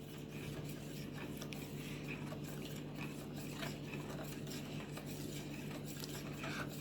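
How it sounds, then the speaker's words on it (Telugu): A spoon scrapes and clinks softly against a container, stirring an almond milk mixture continuously to break up lumps, faint and close with a low background hum. "ఇప్పుడైతే మనం ఉండలు లేకుండా బాగా మిక్స్ చేసుకోవాలి"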